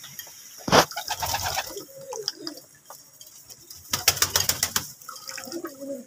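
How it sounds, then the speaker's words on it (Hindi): Pigeons being given water coo softly at close range, with light splashing and fluttering in between as the birds move around. "अभी हम अपने कबूतरों को पानी डालते हैं, आप देख सकते हैं।"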